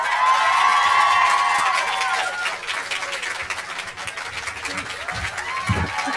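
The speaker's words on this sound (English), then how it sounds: "please give a huge round of applause to the star of the film, Mr. Daniel Radcliffe" A studio audience at a film-promotion interview show cheers and whoops loudly as the star actor enters, a dense roar with high shrill shouts that fades slightly into steadier crowd noise.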